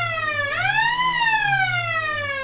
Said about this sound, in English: As the siren goes off for the right in front of us